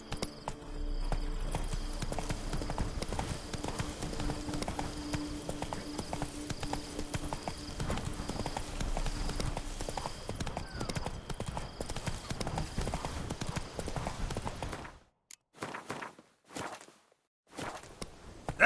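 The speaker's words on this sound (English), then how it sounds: "Come on, Roach." The horse Roach in the video game The Witcher 3 walks with steady rhythmic clip-clop hoofbeats for about fifteen seconds, moderately close, before stopping. A few faint sounds follow the hoofbeats.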